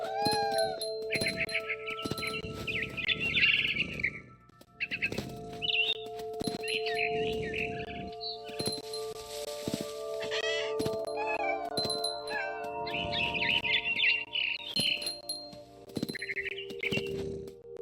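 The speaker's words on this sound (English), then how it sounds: "Then I heard chirping outside my window. It was a barn swallow going back to her nest." Barn swallow chirping outside a window in the game What Remains of Edith Finch, with bright repeated tweets in bursts alongside clinks, thumps and other game sounds.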